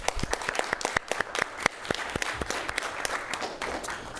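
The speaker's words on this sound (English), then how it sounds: "I just want everybody to give them a round of applause" Applause from a student government meeting audience, scattered individual claps clearly separated, moderately near and somewhat sparse, continuing for several seconds.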